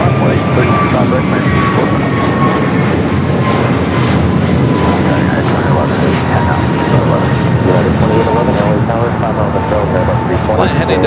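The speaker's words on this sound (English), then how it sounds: "American A321 Neo." An American Airlines Airbus A321neo jet roars on takeoff at Los Angeles International Airport, a loud, steady engine rumble with a rising whine that fills the whole stretch while a voice talks faintly underneath.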